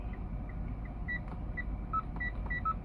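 A Mitsubishi Outlander turn signal clicks out a steady series of soft electronic tones, repeating rhythmically over a low interior hum.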